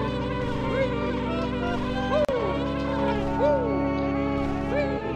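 Insects buzzing in Banjo-Kazooie, a steady droning hum running under swooping game tones, with a sharp click partway through and the drone cutting off near the end.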